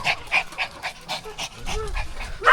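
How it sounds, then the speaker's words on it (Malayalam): A thirsty dog pants rapidly nearby in quick rhythmic breaths, with a faint whimper partway through. "വെള്ളം ഇല്ലാത്തതുകൊണ്ടാണ് ഇങ്ങനെ കിതക്കനായിരുന്നേ"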